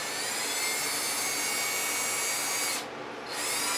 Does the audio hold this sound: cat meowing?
no